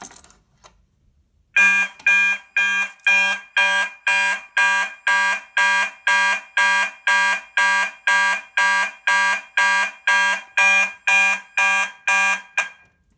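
A Simplex key-operated fire alarm system under test sounds a loud, steady pulsing tone, about twenty evenly spaced blasts in a row before it cuts off, with no talk over it.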